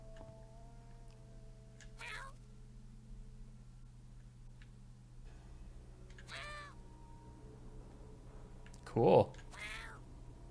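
A cat in the video game YIIK gives several short meows spaced a few seconds apart, the last one louder and closer, over a quiet background hum, with someone speaking briefly.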